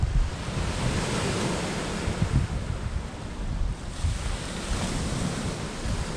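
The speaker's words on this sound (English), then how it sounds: "the wind's calmed down now, which is good" Steady wind gusting outdoors at night, a continuous low rushing roar buffeting the microphone with a surf-like wash that eases slightly partway through.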